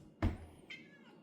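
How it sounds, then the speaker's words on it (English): Pet shop cat meowing in a workshop, one short faint meow followed by a softer trailing call, close by in a quiet room. "There's my buddy. He's my shop kitty."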